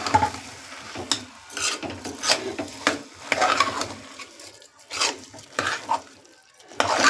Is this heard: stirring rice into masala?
yes